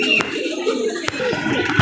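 Army pigeons returning from a race settle onto a loft, giving soft, low cooing mixed with sharp taps and flutters of landing, fairly close and continuous.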